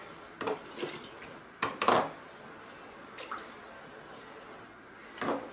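A spoon scrapes and clinks against a pot and glass canning jars as vegetable beef soup with broth and carrots is ladled in, several short wet clatters spaced apart, close and fairly quiet with no talking.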